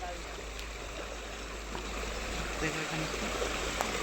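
Floodwater surges through a village street in a steady, broadband rush that holds at an even level throughout, with faint voices in the background.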